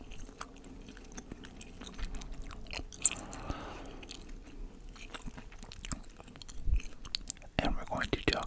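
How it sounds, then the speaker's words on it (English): Close, quiet gum chewing with soft wet clicks and squishes at an irregular pace, plus a few light whispery mouth noises, ending with a louder rustle. "I'm going to enjoy some gum with this as well."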